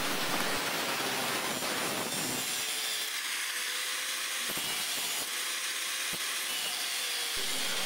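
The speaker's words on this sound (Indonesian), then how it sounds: "Kita potong dulu pakai gerinda sampai permukaannya rata." An angle grinder cuts an overlong bolt down flush while a projector headlamp is fitted on a motorcycle, a loud, steady, close grinding roar that fills the whole stretch with no talk.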